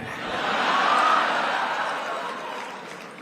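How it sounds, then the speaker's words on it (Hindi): An audience at a speech by PM Modi on India–Germany ties breaks into sustained applause mixed with cheering, swelling to a peak then holding steady as a broad, dense wash of clapping. "तालियां तो अब बजने वाली है।"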